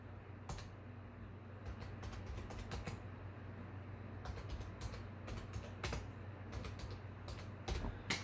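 Rapid, uneven clicking of computer keyboard keys in short bursts, sitting over a steady low electrical hum, fairly quiet and close.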